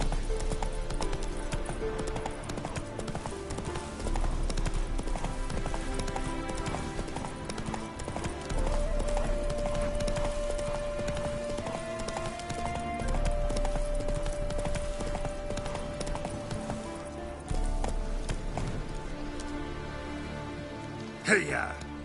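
Roach, the horse in The Witcher 3, gallops in a fast, continuous run of hoof clip-clops, with a patter like rain and a brief whinny near the end.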